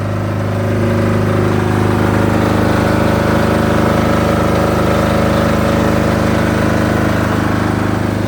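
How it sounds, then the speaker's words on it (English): Generator running in a shed at the back of the land, a loud, steady, close engine drone with a constant low hum and no voices. "So that's the generator"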